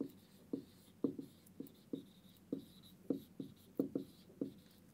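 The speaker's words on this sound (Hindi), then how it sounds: "मैं यहाँ पे लिख देती हूँ" Marker or chalk strokes on a classroom board during an English grammar lesson, a steady series of short, close scratching taps in an even rhythm, with no talking.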